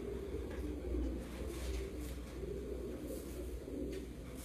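Soft, low cooing of racing pigeons rolls continuously against a faint background hum, fairly distant and murmuring.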